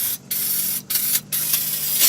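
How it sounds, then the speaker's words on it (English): Aerosol brake cleaner sprayed into the open rear differential housing of a 2000 Ford F350 dually, rinsing off old gear fluid; steady close hiss in three bursts separated by brief pauses, no talking. "Just spray this out in here."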